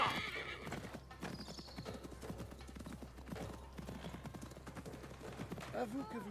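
Horses galloping in the Assassin's Creed Mirage video game: a steady, quick clip-clop of hooves with occasional whinnies, heard under game music and a speaking voice throughout.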